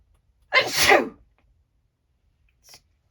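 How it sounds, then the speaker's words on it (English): A single loud, close sneeze bursts out after a brief quiet, followed by silence and a faint small noise. "Sorry, I need to sneeze."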